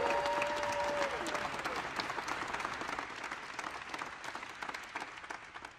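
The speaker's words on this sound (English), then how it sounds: "Another round of applause." Applause from the audience at Blue Origin's post-flight press conference for New Shepard's first human flight crew, a dense wash of many hands clapping that fades gradually over several seconds, with a faint voice briefly audible at the start.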